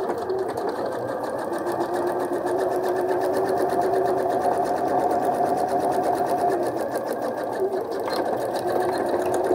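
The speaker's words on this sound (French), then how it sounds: "Ensuite, on va coudre comme prévu tout le long de la fermeture éclair," A sewing machine running a lengthened straight stitch along a zipper on a fly, a fast even mechanical whir with rapid needle ticking, continuous and close for the whole stretch.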